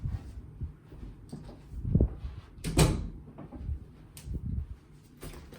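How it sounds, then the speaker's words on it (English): A room door is pulled shut indoors, producing a couple of dull thuds and a latch knock amid quiet shuffling, with no talking. "Let me close my door."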